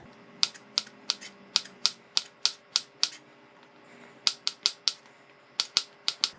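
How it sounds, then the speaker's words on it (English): A knife chops long beans into short lengths on a cutting board, giving sharp, close, evenly spaced taps in quick runs with a brief pause between runs and no talking. "I'm going to cut it slightly shorter, like 1 centimeter length."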